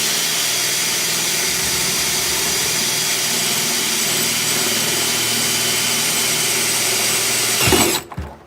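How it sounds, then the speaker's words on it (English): A power drill whines steadily and loudly for several seconds drilling a hole for a dishwasher connection, then cuts off abruptly with a brief clatter at the end. "I'm going to be drilling a hole for the dishwasher installation"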